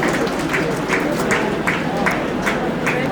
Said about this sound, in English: Keep clapping please.